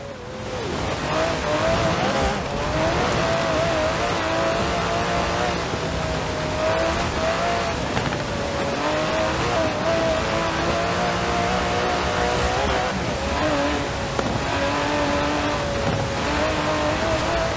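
Aston Martin DB11 with a 5.2-litre twin-turbo V12 driven in the racing game Forza Horizon 4, its engine a loud, continuous drone whose pitch rises and falls steadily throughout, with hints of tyre squeal.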